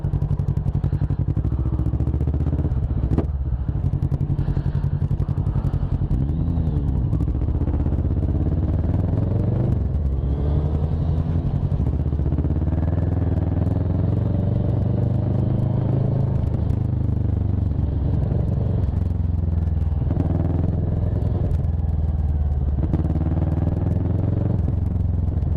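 Close, loud idle of a Kawasaki ER6N parallel-twin motorcycle, a steady throbbing rumble with repeated throttle blips that rise and fall over the whole stretch.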